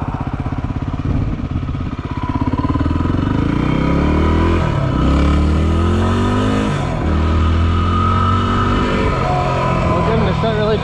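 A motorcycle on Shinko MX216 tires rides through a dirt construction site close up, its engine revving and dropping through several gear changes, with clattering and wind noise and a voice talking over it.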